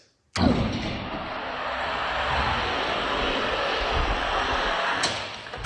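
A funny car launches off the line at a drag race, a sudden loud roar of the engine that holds steady for about five seconds as it races away.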